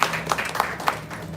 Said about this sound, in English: Alright, so clap loudly and welcome Girish Vira, Niyati's Masa and Chacha.